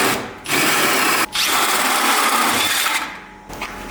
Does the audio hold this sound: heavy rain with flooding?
no